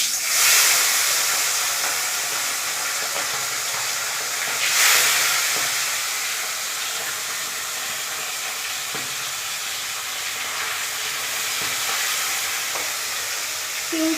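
Pieces of fish sizzle in hot oil in a home kitchen, a loud, dense, continuous frying hiss with brief crackling surges, heard up close with no talking.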